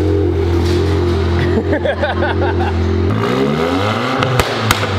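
Close, loud revving from a tuned Volkswagen Mk8 Golf R in race mode, still on the standard tune, with engine pitch sweeping up and down and sharp exhaust pops and crackles near the end; the engine drone fills the whole stretch.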